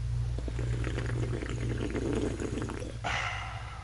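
Water poured for drinking, a low gurgling trickle running close by for a few seconds, then a brief brighter splash near the end before it fades.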